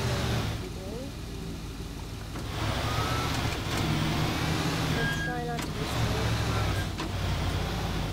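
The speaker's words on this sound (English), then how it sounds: "I'm just gonna take this car and I'm gonna park it." A car engine in the Teardown video game hums steadily as the vehicle drives and pulls up to park. It stays moderately loud across the whole stretch, with a voice talking over it.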